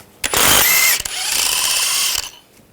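A ratchet with a 16mm socket cranks loose a control arm bolt on a 2009-2017 Volkswagen Tiguan, two loud bursts of rapid clicking separated by a brief pause.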